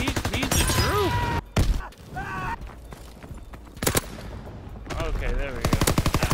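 Rapid bursts of automatic gunfire in a WWII shooter game, Road to Master Division capture-the-flag match, loud and close, broken by brief pauses and quieter stretches, with some voice-like sounds mixed in.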